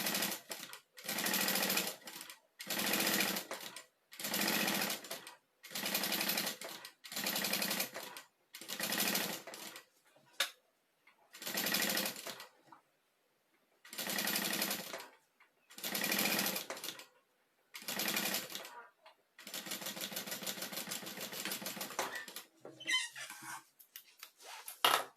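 A sewing machine stitches the lining of a fabric kit pouch on stitch setting 3, running in about ten short, even bursts separated by pauses, then one longer continuous run near the end, close and loud with no talking.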